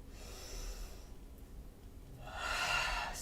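During a yoga class, a slow audible breath: a quiet airy intake, a pause, then a fuller, louder exhale through the nose or mouth, close and intimate, with no talking.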